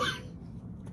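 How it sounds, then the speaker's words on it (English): A single short cough bursts out at the very start, close and fairly loud, then fades into quiet room tone. "now I've got this cough that will not go away"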